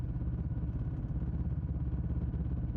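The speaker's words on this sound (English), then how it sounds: "The engine hum stays calm and steady." A motorcycle engine hums steadily on a midnight ride along an empty road, a low, even drone with a faint fluttering pulse, close and continuous with no voices.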